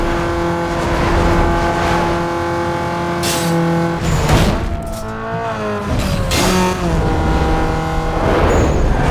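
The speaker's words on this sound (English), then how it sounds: "I nearly blew my engine there." In the video game Need for Speed Underground 2, a racing car engine revs loud and continuous, with its pitch dipping and surging as the car shifts and accelerates.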